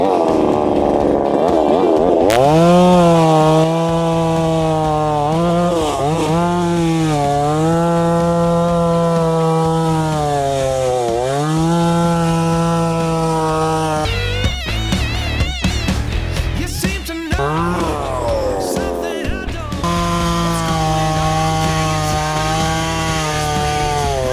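A SEQUOIA SPC0812 petrol chainsaw cuts wood up close, its engine droning loudly and continuously with pitch dips and rises as the chain bites, then a rougher stretch of heavy cutting.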